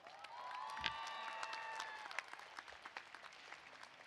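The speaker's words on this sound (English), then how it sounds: "let's give them a round of applause" Applause from parents and supporters in the stands at a Cal Poly commencement ceremony, a steady dense wash of clapping with scattered cheers and whoops over sustained background tones, gradually thinning toward the end.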